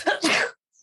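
A single short sneeze bursts out close to the microphone during a podcast conversation, followed by a brief silence.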